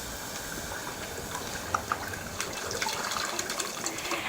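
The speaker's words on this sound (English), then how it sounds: "So there's your 2 cups of water." Two cups of water pour in a steady, close gush into a pot for cooking rice on a camp stove, continuous and fairly loud with a few small splashes, no talking.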